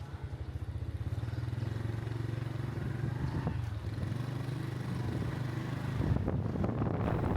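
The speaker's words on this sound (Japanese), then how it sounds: "音からもわかるようにめちゃくちゃ風を感じます" Steady wind buffeting and a droning motorcycle engine while riding pillion on a motorcycle taxi through quiet early-morning streets in Vietnam, loud and continuous with a brief rise in rumble near the end.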